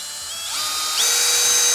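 A power drill bores holes through a door sweep, its whine rising in pitch as the bit speeds up and bites, steady and close with no talking.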